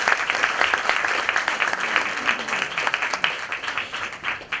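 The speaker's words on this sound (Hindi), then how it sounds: "जोरदार तालियां पटेल सर के लिए।" Audience applause for Patel sir fills the room at a coupon and product giveaway event, dense, steady clapping from many hands, loud and close, with faint voices underneath.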